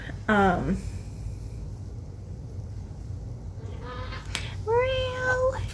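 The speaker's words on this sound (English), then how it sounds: "There's a kitty behind me." A cat meows twice nearby indoors, a short rising call near the start and a longer drawn-out meow near the end, with quiet room noise in between.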